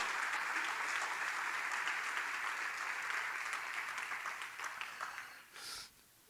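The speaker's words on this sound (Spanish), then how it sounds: "Aplaude fuerte al Señor de gloria." A church congregation claps loudly during a sermon, a dense continuous wash of hands that holds steady for several seconds and then thins out and tails off near the end.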